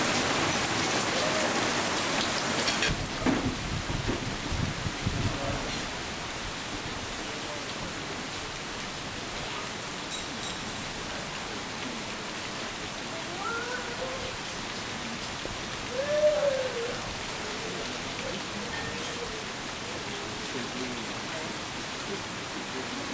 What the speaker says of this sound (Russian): Вот и он долгожданный сезон дождей.